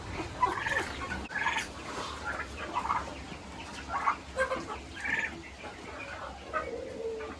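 Farmyard turkeys gobble repeatedly in bursty, overlapping calls with some clucking, moderately close, over a low steady background hum.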